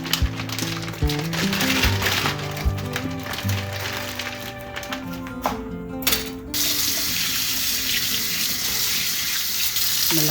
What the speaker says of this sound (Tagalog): Nahugasan na natin ang 2 pakete ng ating oxtail.